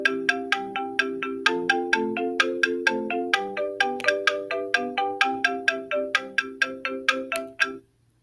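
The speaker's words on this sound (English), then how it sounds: "the blocks, which are like pitched wood blocks, a high and a low sound." Pitched wood blocks give hollow knocks, alternating between a higher and a lower note in a brisk, steady pattern, ringing briefly and then stopping.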